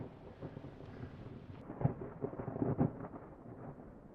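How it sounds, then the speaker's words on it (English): Thunder rumbles low and distant through a thunderstorm, with a couple of deeper swells standing out over a steady wash of rain and wind noise, fairly faint overall. "I'm gonna get out of this thunderstorm"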